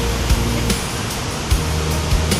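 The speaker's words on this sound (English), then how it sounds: "Steph, what do you think of this waterfall? Beautiful." A powerful, wide waterfall at Lake Sebu, misty and not very tall, pours in a steady rushing roar close by, with a few faint thumps and knocks over the constant water noise.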